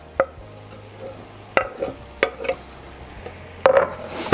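Onion added to a pan and frying in butter, with soft sizzling and a few sharp stirring clatters of a utensil against the pan at irregular intervals.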